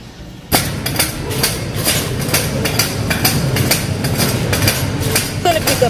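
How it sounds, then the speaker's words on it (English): A Walmart shopping cart rolls across a store floor, its wheels rattling and clattering in a steady rhythmic clack that runs loud and close throughout, with no talk. "You guys already know where I'm at just by the sound of my cart."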